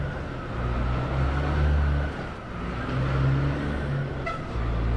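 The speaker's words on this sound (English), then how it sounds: "there's just this huge truck passing by" A huge truck passes along a busy Cape Town street, its low engine rumble swelling and fading twice over a few seconds amid general traffic noise, with a faint horn-like tone near the end.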